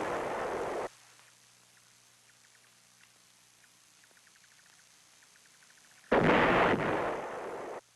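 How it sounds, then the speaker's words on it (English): Heavy North Vietnamese artillery at Khe Sanh: a loud booming blast opens, then a long quiet lull with faint scattered crackles, before a second powerful explosion that rumbles and fades over its final seconds. "The North Vietnamese artillery hitting Khe Sanh and the Marine outposts was all indirect fire"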